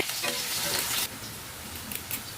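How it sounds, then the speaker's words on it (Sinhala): Crushed garlic fries with chopped onions in hot oil for a Sri Lankan pork stew, a loud, dense sizzle with a brief stir, the crackle dropping slightly in level partway through. "ඊළඟට තලාගත්ත සුදු ලුණු රන්වන් පාට වෙනකන් ටිකක් හොඳින් බැද ගන්න."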